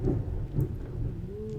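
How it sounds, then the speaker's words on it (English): Thunderstorm with rain, a low rolling rumble of thunder over steady rainfall, heard fairly close and without speech. "It's raining. It's storming over here."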